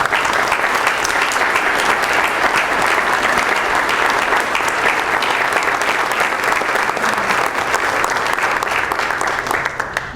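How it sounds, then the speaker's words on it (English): Loud, sustained audience applause for a campus athletics leadership gift celebration, thick continuous clapping that holds strong for about ten seconds before easing slightly at the end. "let's give you one more round of applause and thanks"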